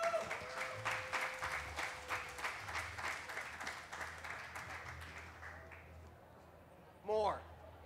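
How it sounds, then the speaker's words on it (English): Audience applause at a drag show, a steady wash of clapping that fades gradually, with a short burst of voice near the end. "Round of applause."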